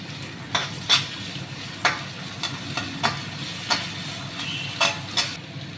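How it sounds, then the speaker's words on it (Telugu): Tomato added to onions already frying in a pan for a prawn and gongura curry: a steady sizzle runs throughout, broken by repeated sharp scrapes and clinks of a spoon stirring against the pan, with no talking. "ఉల్లిపాయలు కొద్దిగా వేగినాయి కదా, ఈ టమాటా వేద్దాం."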